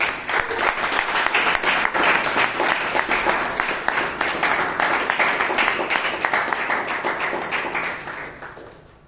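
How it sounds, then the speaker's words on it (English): A room of Toastmasters club members in Bangalore breaks into sustained applause, dense clapping that stays level for most of nine seconds and then fades out toward the end. "So give a huge round of applause to Toastmasters."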